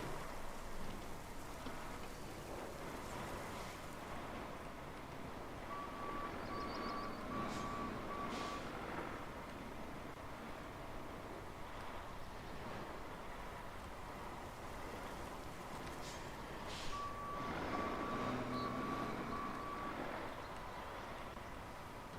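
Heavy truck in the Roadcraft video game rolling over pipes, a steady low engine rumble under rattling, rain-like noise, with recurring reversing beeps sounding twice.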